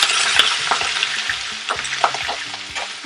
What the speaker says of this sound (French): Une fois que l'huile est chaude, on met tout de suite